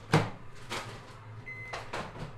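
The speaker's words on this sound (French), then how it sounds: "On va mettre la crème au micro-ondes." A microwave oven in a home kitchen heats cream for an African cake, giving a few close door clunks and clicks followed by a short electronic beep, with no voices.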